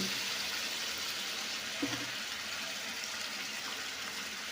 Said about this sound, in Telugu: వాటర్ పోసుకుందామండి